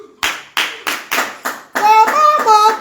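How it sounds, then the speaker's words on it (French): Several sharp claps in a slow, even rhythm, then bright voices sing over continued clapping. "Applaudissez pour lui."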